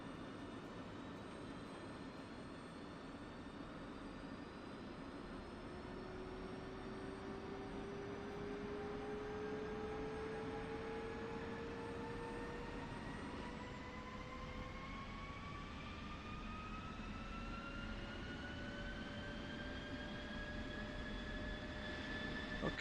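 A simulated aircraft engine in the X-Plane flight simulator spools up as the throttle advances, rising whining tones climbing steadily over a constant low rumble, moderately faint and with no talking.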